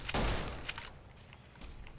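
Gunfire rings out in the video game Fallout New Vegas: a loud burst of shots up front, then a few fainter reports trailing off, with no voices over it.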